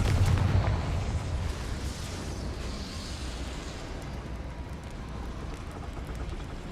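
A Confringo blasting spell detonates in Hogwarts Legacy, a deep rumbling boom at the start that decays into a long low roar and lingering noise, with no voices.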